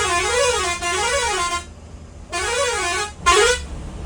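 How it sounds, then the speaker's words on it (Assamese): Bus horn on a highway at the Assam border, close and loud: three long warbling musical honks with short gaps, the last one shorter and more strident. "আৰু এবাৰ হৰ্ণটো মাৰা আৰু আমি অসমলৈ যাওঁ"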